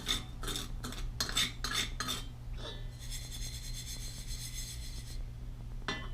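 A black sand mixture being stirred for a Black Scorpion table: rhythmic gritty scraping strokes for about two seconds, then a softer steady hiss with a sharp scrape near the end.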